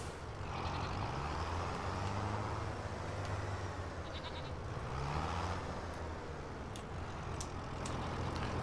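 Goats bleat in the Farming Simulator 25 video game: a couple of drawn-out bleats rise over a constant, loud engine-like rumble and hum, with no one speaking.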